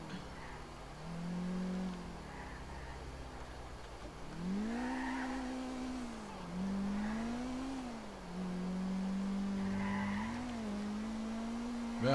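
A car in the video game GTA IV revs and shifts while driving, with its engine pitch climbing and dropping in repeated sweeps and tire skids mixed in. The engine is steady and fairly close, and no one speaks.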